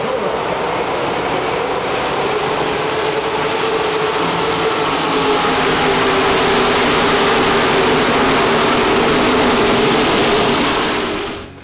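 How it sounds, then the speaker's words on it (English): A full field of ARCA stock cars roars up to speed at Daytona on the green flag, a dense, continuous wall of engine noise that stays loud and steady before cutting off sharply at the end. "It was for the green flag and the entire field accelerating up to speed."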